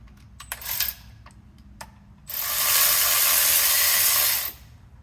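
Transmission pan bolts being loosened on a Lexus ISF, a few sharp clicks and knocks followed by a loud sustained ratchet run of about two seconds at close range, no speech.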